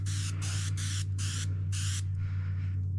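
A hobby spray gun at 25 psi sprays onto a glass jar in five short hissing bursts, each close and loud, followed by a faint fading hiss, over a steady low compressor hum.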